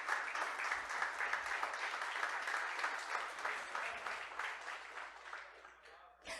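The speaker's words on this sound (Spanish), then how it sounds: "dale un aplauso al Señor" A church congregation claps together in steady, dense applause for several seconds, loud and close, fading toward the end.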